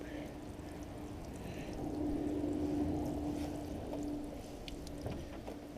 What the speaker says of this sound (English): I'm going to start with my handy dandy watering can here and apply water to the surface